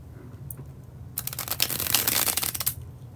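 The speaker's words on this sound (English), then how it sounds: "what I do when I do the bridge shuffle" A tarot deck riffled in a bridge shuffle, a dense burst of fluttering card clicks building to a steady patter for about a second and a half, then stopping, close and alone.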